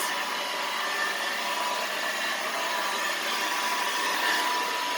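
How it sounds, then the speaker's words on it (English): A hair dryer fitted with a diffuser runs on low heat and low pressure while drying wavy, curly hair. It makes a steady, even airy whir close by, with no talking. "And then you go into diffuse mode, low heat, low pressure."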